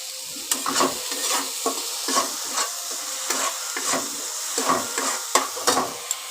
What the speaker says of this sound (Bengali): দেখো একটু ভালো করে কষিয়ে নিই তারপরে আমি জল ঢেলে দেবো